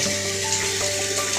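Tap water runs steadily into a sink while dishes are being washed, a continuous close hiss with a few faint clinks.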